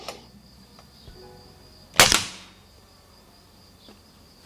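A Hatsan Airtact ED 6.35 mm, 20-joule air rifle fires a single sharp, loud crack at an outdoor metal plate target, followed by a short decaying ring, with a few faint clicks and insect-like ambience around it.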